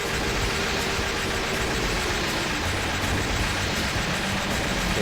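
Attacking trains in the arcade game Metal Slug X make a dense, loud, continuous mechanical rumble and clatter with no pauses across the whole stretch.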